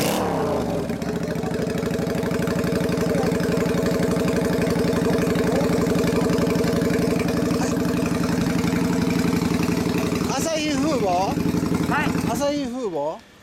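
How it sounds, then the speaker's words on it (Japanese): A Honda 400cc motorcycle engine idles steadily and close by with a throbbing, even rumble, then revs up and down several times near the end before cutting off abruptly. "400。エンジン音聞かせてもらおうかな。"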